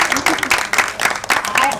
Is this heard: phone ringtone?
no